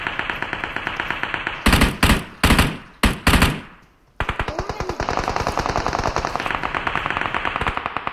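Rapid automatic gunfire in the mobile game PUBG Mobile, loud bursts of dense rattling shots with short pauses between volleys, then a long sustained stream of fire.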